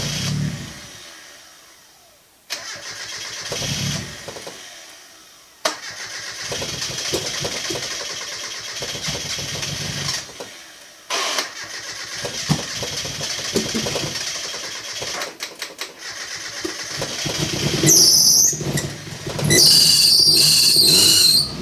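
A Mazda Miata engine is cranked in several short, stuttering bursts with pauses between. It then catches and runs, rising into louder revving with a high squeal toward the end.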